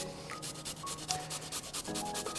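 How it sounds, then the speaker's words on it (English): Turmeric root scraped into a salad dish of zucchini and chickpeas, giving a quick run of close, rhythmic rasping strokes with no talk. "So I will start off with the turmeric. Just scrape this in."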